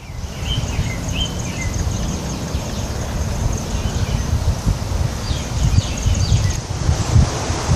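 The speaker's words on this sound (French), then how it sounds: "le petit vent de nord." A light north wind gusts along an ocean shore by a lagoon near a coastal footpath, a steady broadband rush with rustling, and faint chirping insects or birds carrying on above it.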